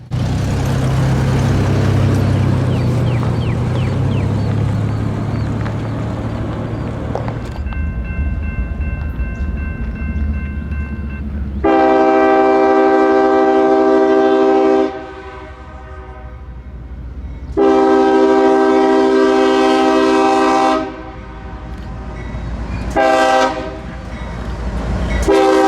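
A BC Rail freight train, M370, rumbles past close by with steady rolling noise, and its horn sounds in long loud blasts: two extended ones, then a short final toot near the end.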